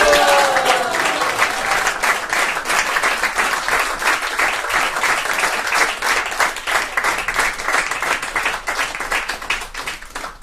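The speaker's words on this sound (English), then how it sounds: "we should give a big round of applause for her parents." A crowd at an initiation ceremony in London applauds the young lady's parents. The clapping is loud and dense and runs steadily for ten seconds, with individual claps growing more distinct toward the end.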